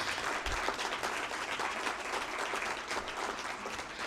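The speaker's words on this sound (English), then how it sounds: "A round of applause, please." Steady applause from a large audience at a conference valedictory ceremony fills the whole stretch, dense and even with no voices rising above it.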